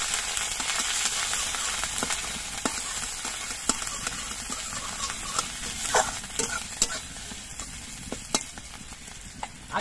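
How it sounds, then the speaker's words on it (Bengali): Ginger paste frying in a pan after the spices, with a steady close sizzle punctuated by frequent scraping taps of a spatula stirring it. "আদাটা একটু ভেজে নেব।"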